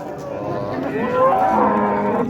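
A cow gives one long, loud, close moo with rising and falling pitch at a rural cattle market in Andijan.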